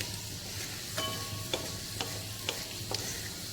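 Coarse paste of garlic, green chilli, ginger and coriander sizzling in hot tempering oil for a Vidarbha-style toor dal amti, a steady soft fry hiss with a few stirring clinks, no talk.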